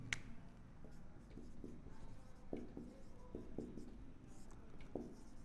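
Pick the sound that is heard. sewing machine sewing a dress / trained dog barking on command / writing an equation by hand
writing an equation by hand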